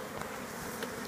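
A honeybee buzzes close by at an open beehive during requeening, a faint steady drone with slight wavering pulses.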